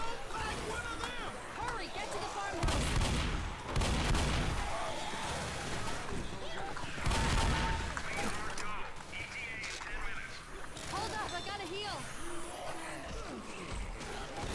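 Gunfire in a co-op video game campaign comes as repeated heavy bursts of shots and booms, loud and up close, with several players talking and shouting over the shooting throughout.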